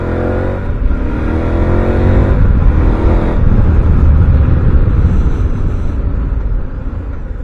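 A KTM 1190 Adventure motorcycle on its stock exhaust pipe revs and accelerates nearby, its engine note climbing in pitch before settling into a loud, steady rumble, with no voices.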